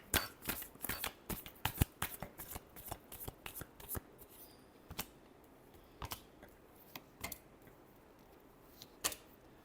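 Tarot cards being shuffled by hand during a reading, a rapid run of crisp riffling clicks and slaps, close and fairly quiet, thinning into scattered taps toward the end with no voices.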